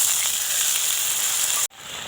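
Spiced ash gourd pieces sizzling loudly and steadily in a pan, then a sudden sharp drop to a softer bubbling hiss as water is poured in near the end.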